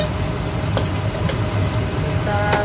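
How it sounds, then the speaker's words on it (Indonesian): Shallots frying in a pan of oil with the heat turned low, giving a steady close sizzle with a few faint pops and nobody talking. "kita taruh sebelah bawang merahnya, seharusnya bawang merahnya dulu gorengnya ya teman-teman"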